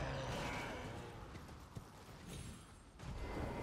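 Soft clip-clop of a horse's hooves as a rider moves along in the video game Elden Ring, heard faintly under a wash of game ambience.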